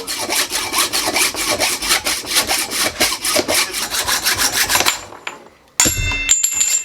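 A hand saw cuts through a bicycle suspension fork's steerer tube, a Marzocchi Z2 Bomber, with steady rapid back-and-forth rasping strokes for about five seconds, then stops, followed by brief handling clatter.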